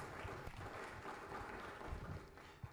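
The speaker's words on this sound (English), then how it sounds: "Let's give him another round of applause." Faint, distant applause from a conference audience at an African social entrepreneurship gathering, a soft steady patter of many hands heard from afar.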